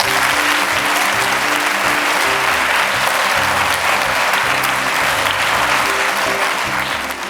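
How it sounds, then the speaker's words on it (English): An audience at a South African school event gives a sustained round of applause, dense and steady throughout, tapering slightly at the end. "So let's give the MEC a round of applause."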